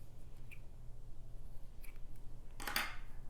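Scissors snip thread on a crocheted bonnet, a single crisp close cut near the end over quiet room hiss.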